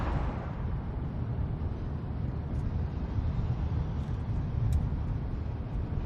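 Oncoming road traffic passing a car, heard from inside the cabin as a steady low rumble and road roar, fairly faint, with a slight swell and fade as the vehicles go by.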